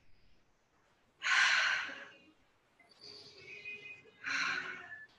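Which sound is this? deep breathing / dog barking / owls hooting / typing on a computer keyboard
deep breathing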